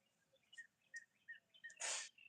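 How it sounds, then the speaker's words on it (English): A single loud, sharp sneeze from a man with allergies bursts out near the end, preceded by a few faint chirping bird calls in a quiet background. "When I sneezed."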